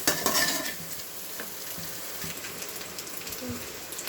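Chopped onion and green chili fry in a pan while being stirred, a crackling sizzle with a few scraping strokes and pops, close and fairly quiet.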